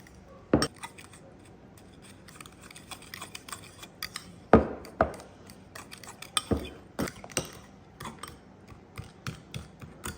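A spoon stirs brown sugar into a meatloaf sauce in a bowl, making scattered clinks and scrapes against the dish, close but fairly quiet, with irregular knocks and pauses.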